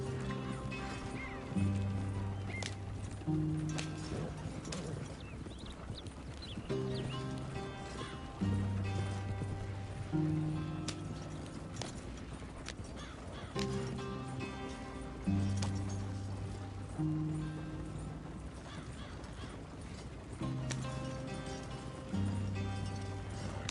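Rhythmic hoofbeats of a horse galloping in the Red Dead Redemption video game, steady and fairly loud, with a repeating musical tone pattern layered over the pounding stride.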